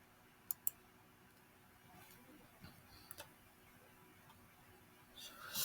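Two quick, sharp clicks of a computer mouse, close and quiet, followed by a few fainter ticks and light background noise.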